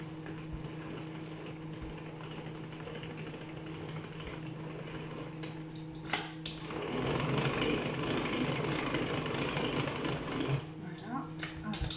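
An electric hand mixer whisks an almond cake batter, a steady high motor whir with a faint hum that shifts and grows coarser midway as the beaters move through the mixture, heard up close without talk.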